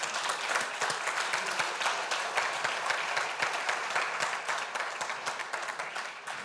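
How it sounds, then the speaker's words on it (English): An Open Source Day conference audience claps in a round of applause, a steady, fairly dense patter of hands that keeps an even level throughout. "Please give him a round of applause"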